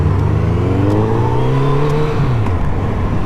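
A motorcycle revs and accelerates through rising gears on a road at a Yamaha and Kawasaki demo day, with a loud, close engine note climbing and shifting under steady wind noise.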